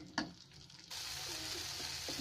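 Steady broadband bubbling and sizzling from a pot of liquid boiling on the heat for aval puliyogare, starting after a brief clatter, continuous and close.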